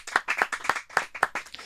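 Hands clap in quick, irregular bursts to applaud a sponsor, a pet waste removal service in Santa Barbara, California; the claps are fairly loud and close, steady for nearly two seconds, with no talking.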